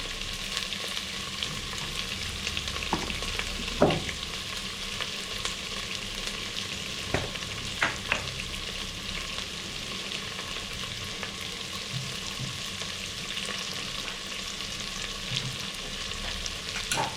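Onions frying steadily in oil until deep brown, with a constant close sizzle and a few sharp scrapes and clinks of stirring, for a biryani.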